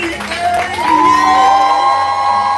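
Poetry slam audience in Houston cheering, whooping and clapping loudly after scores are announced, a sustained crowd roar with shouts rising over steady applause throughout.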